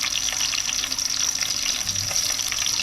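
Garlic sizzling in hot oil in a pan as the start of a dried fish curry, a steady close crackle and hiss with no talking.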